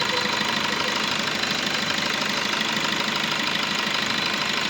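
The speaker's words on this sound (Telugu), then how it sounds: "ఇంజన్ కూడా చాలా స్మూత్గా ఉంది." A 2017 Maruti Brezza engine idles after a restart, a steady, even mechanical hum and tick close by with no talking.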